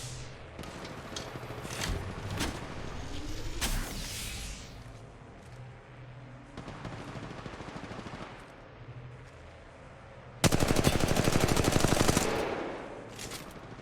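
Gunfire in the mobile battle-royale game Apex Legends Mobile: scattered shots and bursts of automatic fire, swelling to a loud, sustained rapid volley near the end.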